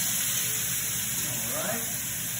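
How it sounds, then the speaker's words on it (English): Marinated pork for tacos sizzles in a hot pan, giving a steady, loud hiss with faint crackles and pops, heard up close and without talking. "you might get a little bit of kind of sizzling and popping going on"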